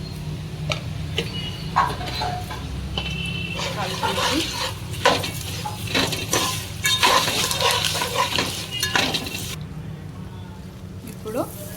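Puffed rice snack frying and being stirred in a pan, with soft crackles, light scraping and utensil clicks. A voice talks over much of it, and the frying sound stays moderate and close.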